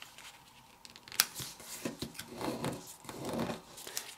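Paper being folded into a square base for an origami transforming star box, with close crinkles, creases and a sharp crisp snap, no voices over it.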